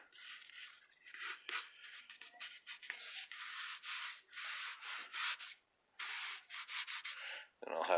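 A blade cutting stress relief seams into the foam of a boffer sword, a series of short, close scraping and rubbing strokes with small gaps between them.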